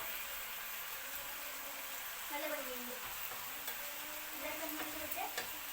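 Onion thoran, a Kerala stir-fry, is stirred and mixed in a pan. It gives a soft, steady scraping and faint sizzle with a few brief tonal squeaks, low in level against background noise.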